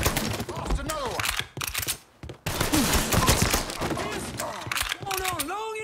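Bursts of gunfire in the crime game Mafia 3, rapid volleys and single shots cracking loudly in close succession with a brief lull midway, mixed with voices and in-game effects.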